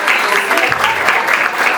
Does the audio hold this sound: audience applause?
yes